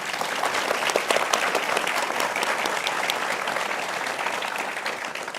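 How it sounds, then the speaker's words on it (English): An audience applauds a panel at an evening book talk celebrating Constitution Day, a dense, steady burst of many hands clapping that stays loud throughout without voices over it. "let's have a round of applause for this esteemed panel"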